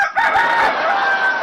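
A person imitates a rooster's crow with one loud, drawn-out cock-a-doodle-doo on a television dance show stage.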